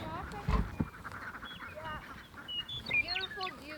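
A duck on a spring homestead gives short, scattered quacks and honking calls, faint and somewhat distant, mixed with other poultry sounds and quiet background noise.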